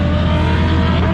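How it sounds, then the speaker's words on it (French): Drift cars at the Musselman Honda Circuit roar with loud, sustained engine noise, a dense continuous blare with no pause in it. "On n'a pas beaucoup de spots où on peut filmer les voitures en train de drifter."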